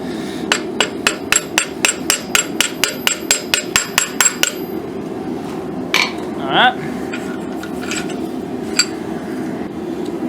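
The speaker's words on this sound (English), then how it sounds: "Then I go back with a hammer." A hammer strikes a metal habaki for a wakizashi about a dozen times in a steady, ringing rhythm, close and loud, then stops, followed by softer clinks and handling noises.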